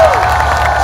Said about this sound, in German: Das ist Jubel.